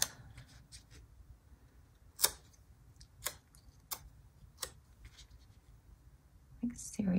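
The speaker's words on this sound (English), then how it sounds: "I'm gonna come in here and cut this one." Scissors snipping planner paper for a spring spread in a Happy Planner: several crisp, isolated cuts spaced apart over a quiet background, close up, with soft speech.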